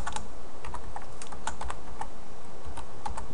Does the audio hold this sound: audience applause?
no